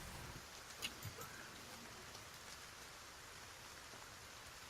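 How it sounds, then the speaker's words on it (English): Steady rain pours down in an even, hissing wash, with a couple of slightly louder drops tapping nearby. "As much as the rain dilutes the sound."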